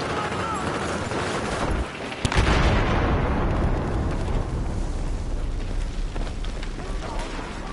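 Battlefield 4 combat with a heavy explosive boom followed by a long rumbling roar of gunfire and blasts, loud and continuous, with speech mixed in underneath.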